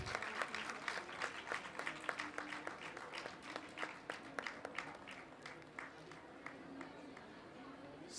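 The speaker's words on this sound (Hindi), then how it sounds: "यतीन्द्र मिश्र को जोरदार तालियों के साथ।" Loud applause from an audience at a literature festival award ceremony for a young writer's prize, brisk clapping with distinct individual claps in a lively, uneven rhythm throughout.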